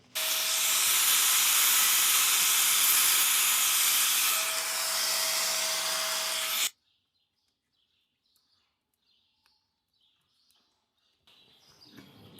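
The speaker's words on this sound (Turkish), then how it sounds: "vücuda temas edecek kısımlarını ateşte eriterek şekil veriyoruz" A loud, steady hiss of a flame plays as the edges of a splint for a lamb's broken leg are melted and shaped over fire. It runs for about six seconds, then cuts to near silence with faint chirps.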